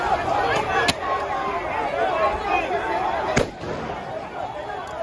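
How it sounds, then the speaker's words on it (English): Fireworks crack sharply twice during a tense street confrontation, with a steady hubbub of crowd chatter and voices underneath the loud pops. "Fireworks."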